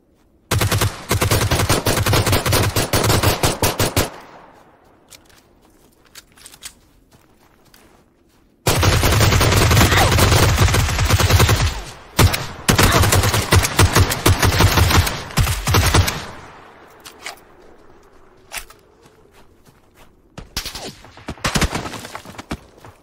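Pistol and automatic gunfire in a shooter video game, dense rapid bursts in two long loud stretches with quieter gaps between, then scattered single shots toward the end.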